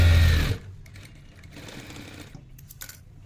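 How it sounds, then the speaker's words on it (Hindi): A sewing machine stitches a doubled sleeve border on a men's winter T-shirt in a short loud burst that stops abruptly, followed by faint handling clicks. "उसे इस तरह से डबल करेंगे और स्टिच कर देंगे। एक स्टिच और कर देंगे।"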